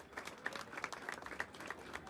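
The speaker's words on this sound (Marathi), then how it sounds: "टाळ्या वाजत राहिल्या पाहिजे गाईज." Audience clapping at the Aryans Govinda Pathak practice launch in Jogeshwari as a guest is welcomed with a bouquet, a faint, steady patter of many hands throughout.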